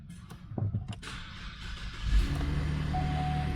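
A 2012 Cadillac CTS engine cranks and catches, a short rough start followed by a steady idle with a faint chime, heard close with no talking.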